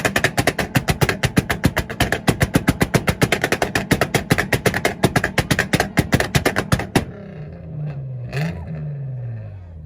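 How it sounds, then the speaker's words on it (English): A Nissan car on a 2-step launch limiter at a rev battle fires a loud, rapid machine-gun-like string of pops and bangs for about seven seconds, then cuts off, leaving the engine idling and a crowd murmuring. "Giving me the rev."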